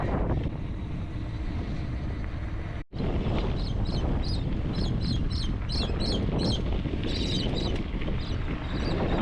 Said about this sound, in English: Love the sound of the Australian birds